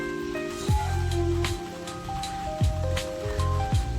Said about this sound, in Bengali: আবার বৃষ্টি শুরু।